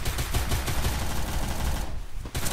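Rapid gunfire in a shooter video game crackles in quick repeated bursts, loud and close, then briefly pauses before another shot, with no talking.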